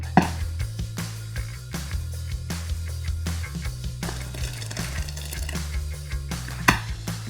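Pea soup with mint and cream blended in a blender, a continuous motor whir with a steady low hum and churning, close and fairly loud, running alone without speech.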